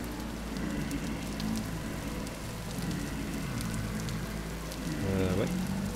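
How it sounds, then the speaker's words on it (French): Heavy rain pours in the video game Vintage Story, a constant broadband hiss under a low rumble, with a voice talking over it intermittently. "Il pleut très fort."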